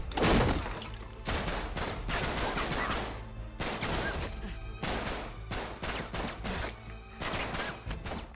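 Gunfire in the video game Uncharted 3 during a London Underground firefight, a dense run of loud shots and bursts that repeat in clusters for several seconds over a steady rumbling game background.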